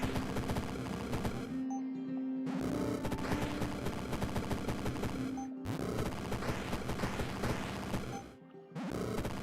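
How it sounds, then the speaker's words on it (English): Rapid gunfire in a video game, loud bursts of automatic shots rattling in long volleys broken by brief silent gaps, with sharp impacts and ringing tones between the strings of fire. "It's gonna be a lot of bullets now."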